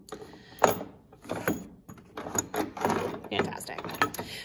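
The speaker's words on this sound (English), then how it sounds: "So I'm going to move this clamp towards me." A CNC hold-down clamp is loosened and slid along the machine bed, giving a few soft metallic clicks, scrapes and rattles up close at low level, with some faint voice-like sound mixed in.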